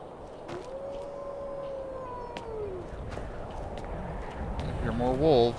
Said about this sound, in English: Hear more wolves.